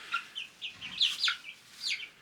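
A young hen on a homestead gives a run of short, faint, high chirping clucks in an uneven rhythm, heard alone against a quiet background.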